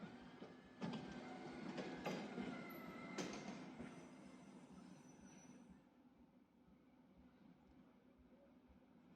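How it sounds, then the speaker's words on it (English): GBRF Class 73 freight train passing a level crossing near Strawberry Hill station in Greater London, a steady rolling rumble with a few sharp metallic clanks and squeals, fading after about six seconds. "You see a freight train coming"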